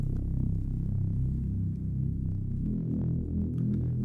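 A thick, low, droning Reese bass synth holds sustained notes with a slow throbbing wobble, dry and unprocessed, with no voices.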